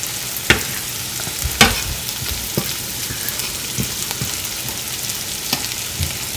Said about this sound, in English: I'm adding onions in it because I love me some onions.